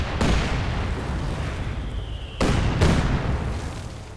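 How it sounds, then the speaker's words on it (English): Artillery barrage explosions boom in the strategy game Company of Heroes 2, a rolling wall of blasts with three sharp impacts standing out, loud and continuous, with no talk over it. "Rather intense barraging going on. Incendiary barrage going on."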